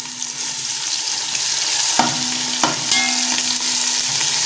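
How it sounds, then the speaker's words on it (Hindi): Crushed ginger, garlic and green chili hit a pan of browned onions for a vegetable biryani. The result is a loud, steady sizzle with a few sharp stirring scrapes and clinks, close up and without talk. "अभी हम अदरक, लहसुन और सब्ज़ मिर्च जो कुटी हुई थी वो डाल देते हैं।"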